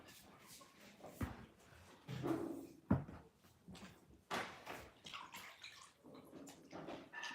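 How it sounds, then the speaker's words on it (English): Hands being washed with water in a remote Nigerian village, irregular splashes and pouring, fairly faint, with a few knocks and other small handling sounds around them. "So washing my hands now."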